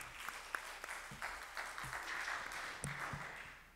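Audience applause at a university smile festival contest: a faint, steady wash of clapping from a crowd, with a few sharper nearby claps standing out, heard from a distance in a hall.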